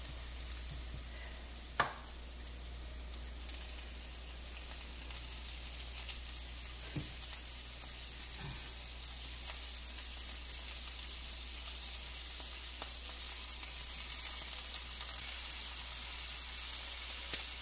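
Shrimp for Cajun shrimp and grits frying in a pan give a steady, moderate sizzle that runs the whole time, with a few faint clinks from stirring and no talking.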